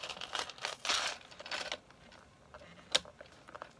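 Paper being handled and crinkled while crafting a Christmas gift tag, a few soft rustling bursts followed by a quieter stretch and one sharp snip-like click, close and fairly faint with no talking.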